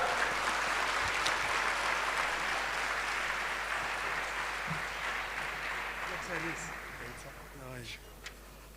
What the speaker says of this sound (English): Let's give him a big round of applause, please.